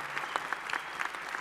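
Brief burst of crowd applause in the Olympia hall in Paris, many hands clapping in a dense, continuous patter at moderate level, heard at a slight distance.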